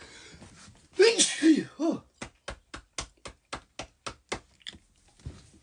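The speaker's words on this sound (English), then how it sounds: "I'll sneeze." A single burst of sneezing or sharp breathy vocal sounds up close, followed by a steady run of soft, evenly spaced taps or sniffs.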